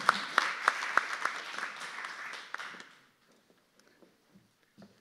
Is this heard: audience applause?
yes